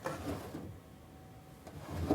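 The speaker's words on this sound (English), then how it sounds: "Can I see if the drawers open?" Drawers of an old Victorian wooden chest being pulled open, giving two soft scraping slides at the start and end with a quieter pause between, close by with no talk.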